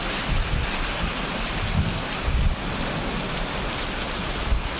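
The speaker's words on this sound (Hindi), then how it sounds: "आज मैं देहरादून के मौसम के को दिखाऊंगा आपको कि खूब तेज़ से बारिश हो रही है और ओले भी गिर रहे हैं" Heavy rain mixed with hail pours down in Dehradun, making a dense, steady hiss with occasional louder thumps and bumps throughout.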